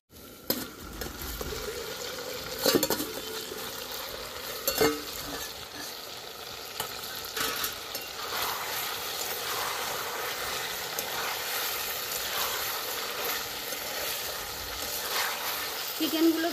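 Chicken being sautéed slowly with chopped tomato for tadka chicken, giving a steady close sizzle and bubbling with a few sharp clinks of a utensil against the pan.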